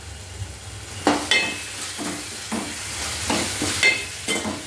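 A spoon stirs chili powder into a prawn and tomato curry frying in a pan, with several distinct scraping strokes against the metal over a soft steady sizzle, close up and with no talking.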